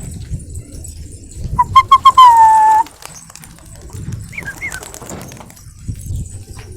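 Pigeons in a loft, coos and throaty calls close by, with one strong drawn-out call and a few softer calls later over quiet background noise and faint rustling.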